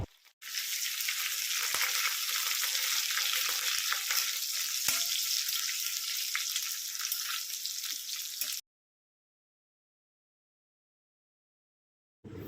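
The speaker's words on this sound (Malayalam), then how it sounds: "ഉള്ളിയെല്ലാം നന്നായി മൂത്ത് വന്നതിന് ശേഷം അതിലേക്ക് കറിവേപ്പില ചേർത്ത് കൊടുക്കുക" Shallots frying with curry leaves for banana flower thoran hiss and crackle loudly and continuously in a pan up close, then cut abruptly to silence.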